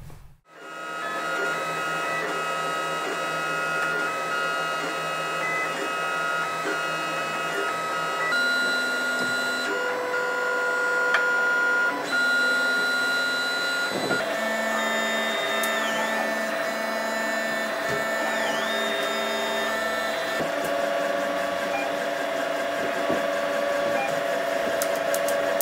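A 3D printer printing parts for a xenomorph cosplay, a continuous whirring of stepper motors with shifting pitched tones and small changes in rhythm, close and steady for the whole stretch, with no talk.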